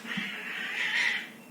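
Two cats fighting outdoors near a balcony let out a long, drawn-out yowl with a steady wavering pitch, fairly clear and sustained for over a second.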